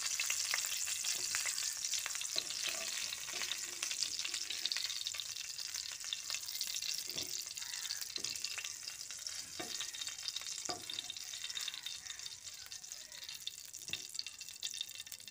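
Pointed gourds (potol) fry lightly in oil, a steady bright sizzle running throughout with soft stirring clinks and scrapes at irregular intervals, close and alone without voices.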